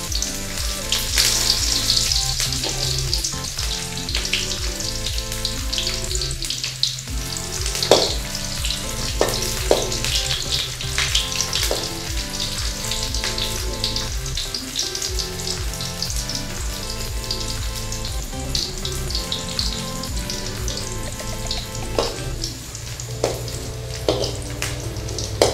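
Dried chilies and onion pieces sizzle and crackle steadily in hot oil in a home kitchen, a loud continuous frying hiss with occasional stirring sounds and no voices.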